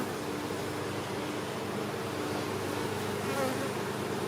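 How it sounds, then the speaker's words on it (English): Angry honey bees swarm and buzz loudly around an open, active hive during an inspection, a dense continuous drone that holds steady and close throughout with no talking. "The bees are very not happy about this though."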